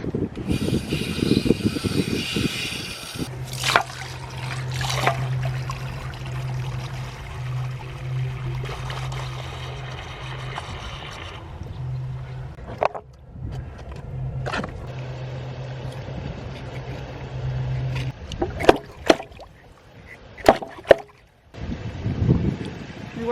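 Water starts running in a garden fountain after its pump is switched on: a low hum and trickling flow, with plops, drips and handling clatter, moderately close, plus a short burst of talk.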